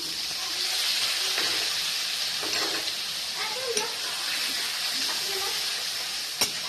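Water poured onto lentils in a hot pan sets off a loud, steady hiss and sizzle that runs throughout, broken by a few soft clinks and stirring sounds.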